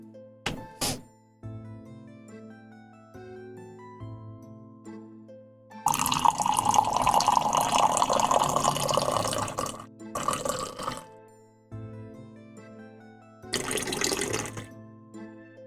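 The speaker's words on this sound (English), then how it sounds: "Hold up, gotta pour some tea." Tea poured from a pot into a cup: a steady liquid splash of about four seconds, then two shorter bursts of pouring, heard over quiet background music with a few faint clinks and drips.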